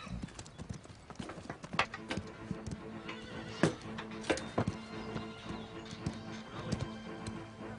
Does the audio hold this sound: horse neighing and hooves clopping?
yes